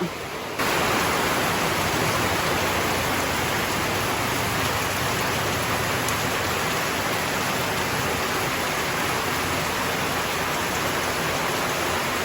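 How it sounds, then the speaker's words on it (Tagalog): Heavy rain with large drops comes down hard and starts abruptly, then holds as a loud, dense, unbroken hiss that runs on without a pause. "Oh, lalaki po ng patak ng ulan mga kadilag."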